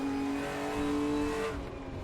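A steady, loud BMW M1 Procar race engine in the RaceRoom racing game drones at high revs with a tonal whine, then the pitch shifts as it eases off near the end.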